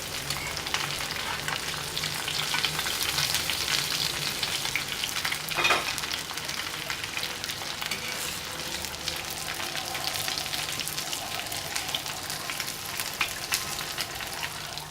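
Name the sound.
chapli kebabs frying in a covered pan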